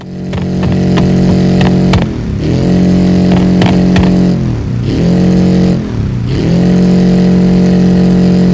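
A small Spanish car in BeamNG.drive revs hard with fire from the exhaust, a loud close engine climbing and dropping through several rev cycles with sharp pops and crackles.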